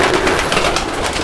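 Pigeons coo in a short, breathy burst, close and fairly loud over a soft hiss, with no talking.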